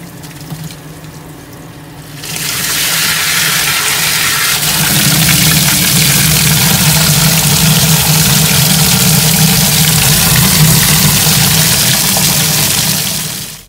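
A powerflushing machine starts up and pumps water with cleaning pellets through a heating system, a loud steady rushing hum with a low motor drone that holds evenly for over ten seconds after a quieter start.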